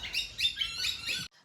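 Small birds chirp in quick, bright bursts close by outdoors, a busy run of repeated tweets that stops abruptly near the end.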